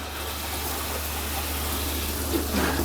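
Water gushes steadily from an RV shower during water-system sanitizing, a close, even hiss with a low pump-like hum beneath, ending with a brief splash change near the end.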